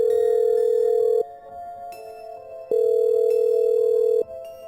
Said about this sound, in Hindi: वह तुरंत अनाया को फोन मिलाते हैं।